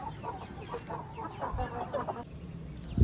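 Farmyard chickens clucking in short scattered calls over a busy background, moderately near, with a louder thump near the end.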